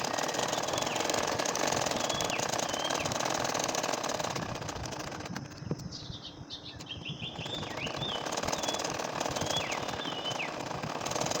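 A sewing machine runs steadily while stitching a curved nakshi kantha quilt design, a continuous rapid mechanical chatter that dips briefly midway and then resumes, up close with no talk.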